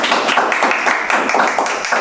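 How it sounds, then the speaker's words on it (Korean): Applause from the audience at an academic conference panel session, a loud, close burst of many hands clapping in a dense, slightly pulsing rhythm for about two seconds. "큰 박수 부탁드리겠습니다."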